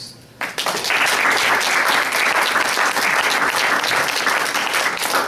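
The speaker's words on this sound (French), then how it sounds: "On applaudit encore Félix Cazeru" An audience applauds Félix Cazeru at an Antilles lyric event, the clapping breaking out after a brief pause and then holding loud, dense and steady throughout.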